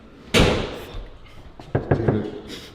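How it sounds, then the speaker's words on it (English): A door shut hard with a single loud slam, followed by a few lighter knocks and thuds close by in an apartment room. "Did he shut the door?"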